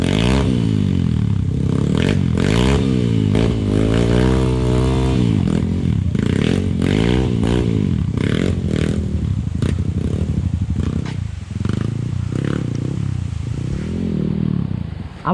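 A motorcycle engine revs hard and repeatedly while climbing a steep uphill dirt trail, its pitch rising and falling in loud close surges, with rattling and scraping over the rough ground.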